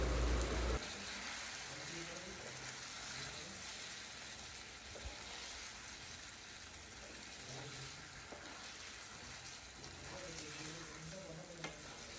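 A paste of sour yogurt and almonds sizzles loudly and steadily in a hot pan, with the hiss of frying filling the whole clip and faint stirring movements underneath.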